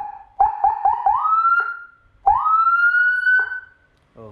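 A Whelen HHS 200-watt siren module driven indoors gives a few quick rising chirps, then a longer loud rising wail that cuts off sharply, harsh and very close.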